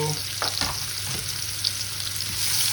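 Onions frying in a pan for pork chops give a steady close sizzle with a low crackle, broken by a few scraping stirs.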